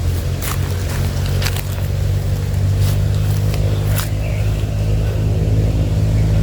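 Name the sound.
motorcycle engine accelerating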